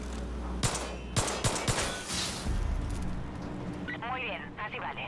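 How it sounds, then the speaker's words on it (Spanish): Gunfire in the Far Cry 5 video game: several sharp bursts of shots in the first half, a brief spray of rapid fire, then scattered game sounds, with a voice speaking over the action. "ahora me va a dejar pegarle 4 tiros"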